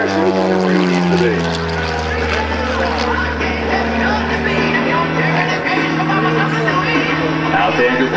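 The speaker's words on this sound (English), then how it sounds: "rolls the airplane right around, holds them down to 45 down line" Dan Marcotte's aerobatic propeller plane drones loudly overhead at the 2010 Greenwood Lake Airshow, its engine pitch sweeping up and down through rolls and dives in a continuous roar.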